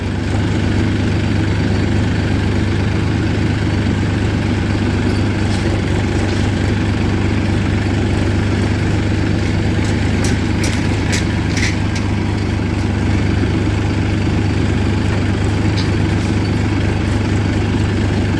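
Two small Massey tractors stand idling at a mill in Bharala village, a steady low engine drone with constant rumble throughout and faint higher clicks overhead.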